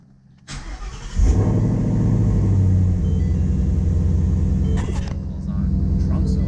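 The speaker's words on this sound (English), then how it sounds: "let's start the car" A Ford Mustang S550 starts with a brief crank, then settles into a steady, loud rumbling idle with a short rev surge, all heard close up without talk.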